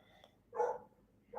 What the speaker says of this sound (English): Y'all hear her out there barking?